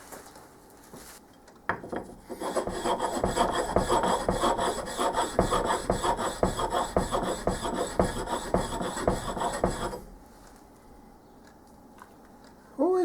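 A sharpening stone rubbed back and forth over a metal lathe cross slide casting, giving a steady rhythmic rasping scrape for about eight seconds, close and fairly loud, then stopping into quiet.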